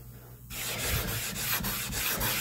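Sharpening stone rubbed on sandpaper to give it a convex shape, close rhythmic back-and-forth scraping strokes starting after a brief quiet moment, each stroke gritty and loud.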